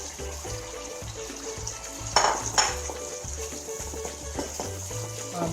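Broccoli and chicken stir-frying in a pan for homemade black pepper chicken, a soft steady sizzle with scraping and a couple of sharp utensil clanks, under light background music.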